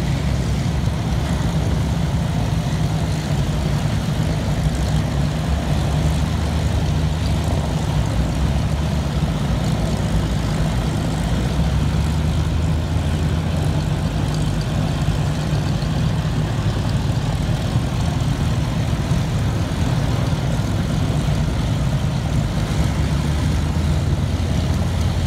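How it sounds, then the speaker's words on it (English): A formation of Hurricane, Spitfire and Blenheim warplanes at the Duxford Flying Legends air show produces a loud, continuous piston-engine drone that holds steady throughout with no voices. "Hurricanes start to form up. Four Hurricanes, two Spitfires, and one Blenheim."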